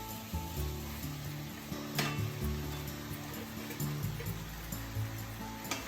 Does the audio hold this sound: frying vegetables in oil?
yes